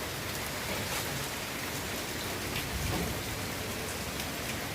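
Heavy rain pours outside in an unbroken, even roar of dense patter, fairly quiet and with no voices.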